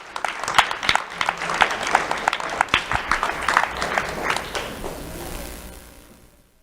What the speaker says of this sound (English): Let's have a round of applause for Mateo Lucio Juan.